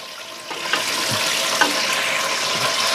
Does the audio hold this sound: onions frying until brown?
yes